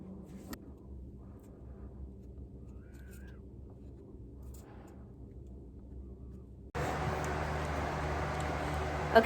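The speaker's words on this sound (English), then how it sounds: "excuse the noise of the fan" A fan running in a basement beside an open window switches on partway through, rising from a quiet low hum into a loud, steady broadband whoosh.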